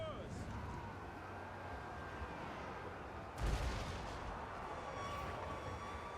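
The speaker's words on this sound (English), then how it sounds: "Mortars are doing some work." Mortar artillery fires during a Total War: Warhammer 2 siege battle, with one heavy low boom partway through standing out from a continuous din of battle noise.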